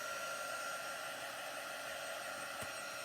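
A hair dryer blows steadily on chalk paste, a loud continuous whoosh that holds without a break from start to end, with no talking.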